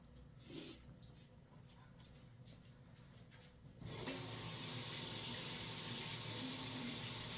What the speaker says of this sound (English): So let me wash these peppers off.